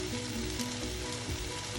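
Ground beef sizzling and frying in a hot pan, a dense steady crackle throughout, close and fairly quiet.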